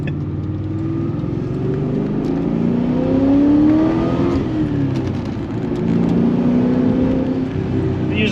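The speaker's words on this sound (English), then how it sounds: "Put some revs into it, mate." A car fitted with a 3-inch exhaust revs hard and close, its engine note rising and falling through sustained throaty surges with a steady rumbling drone between them.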